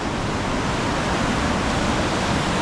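Steady, full rushing of flowing water, a constant broadband roar with no pauses, from the river below the hot springs at Manikaran near Manali.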